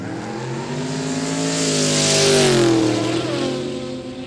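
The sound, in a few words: panel van engine revving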